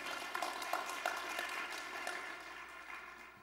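Audience clapping in a church live-stream setting: a scattered round of applause with distinct claps at first, thinning and fading toward the end.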